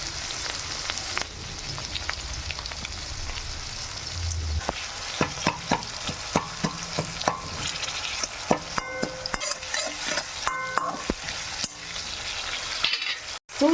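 Tomato pieces frying with onion-based seasoning for raagi upma, a continuous sizzle under repeated clinks and scrapes of a spoon stirring in the pan, steady and close with no talking.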